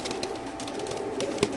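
Racing pigeons of the Giribaz type in a cage at a pigeon sale, low cooing and soft rustling close by, moderately quiet with a few small bumps against steady background noise.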